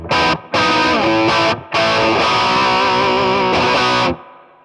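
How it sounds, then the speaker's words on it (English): A distorted electric guitar through a Marshall JCM900 Studio 20-watt amp on its lead channel, with reverb set just above a quarter, plays loud sustained chords in several bursts separated by short gaps. "Then on the lead channel, we'll do the same thing. So reverb now is just above quarter of the way up."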